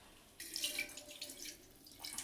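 Water splashes and trickles into a cooking pot in a brief, quiet pour that starts abruptly and keeps running under light dripping.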